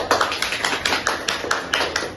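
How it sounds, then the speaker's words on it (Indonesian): A small group at a podcast recording claps together in a steady, rhythmic pattern, each clap distinct and close, at moderate volume with no talking. "Boleh diberi tepuk tangannya dulu"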